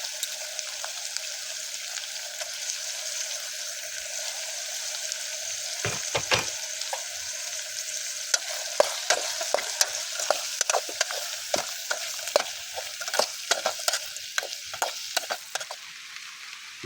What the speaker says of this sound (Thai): วันนี้เราจะใส่หมักแตงที่เราซอยไว้เลยนะเอามาผัดนำกัน